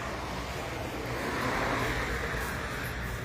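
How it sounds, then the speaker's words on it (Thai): Steady roadside traffic rumble with a broad wash of noise, cars droning past continuously nearby at moderate loudness, no voices. "เสียงก็จะมีรถยนต์รบกวน หน่อย ก็แล้วกัน เพราะว่า อยู่ติดถนนเลยนะครับ"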